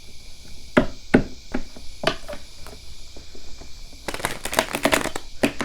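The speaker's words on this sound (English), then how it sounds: "Two more shuffles." A deck of tarot cards is shuffled close up, giving a few separate riffling snaps followed by a quick, dense flurry of card flicks. The sound is crisp and near, with no one speaking.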